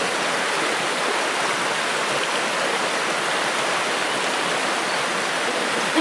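The Bano River in the Afi River Forest Reserve, Nigeria, flows as a steady, even rush of water, close and continuous with no voices.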